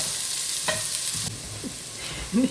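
Carrots and garlic sizzling in a soup pot, a steady bright hiss with the soft scrape of stirring partway through, close and continuous.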